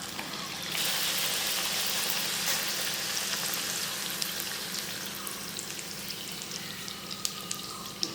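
Puris deep-frying in hot oil, a loud, dense sizzle that swells about a second in and holds steady, with small pops and crackles on top and no voices.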